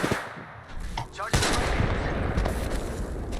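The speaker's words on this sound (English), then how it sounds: "He's shooting me." Rapid gunfire in the Apex Legends video game erupts about a third of the way in and keeps going as a loud, dense, continuous barrage.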